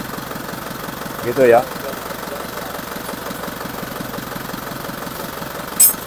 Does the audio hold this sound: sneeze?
no